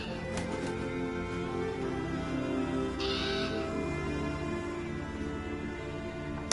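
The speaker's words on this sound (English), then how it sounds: "that's a crow sound, not a raven sound" A crow caws in the video game Assassin's Creed Valhalla, a few harsh calls set against a steady ambient backdrop, moderately near with no talking.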